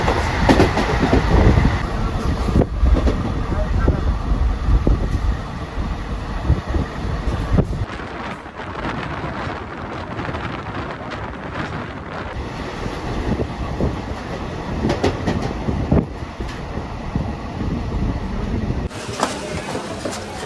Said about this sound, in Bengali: মানে এর থেকে ভালো ট্রেন জার্নি আর হতে পারে বলো?